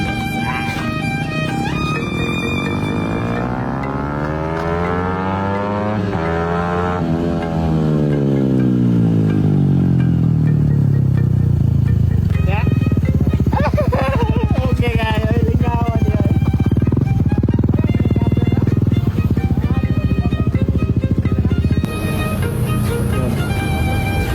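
A remapped motorcycle engine revving at high RPM, its pitch sweeping up and down in long rising and falling runs, then holding a loud, sustained high-revving drone close by.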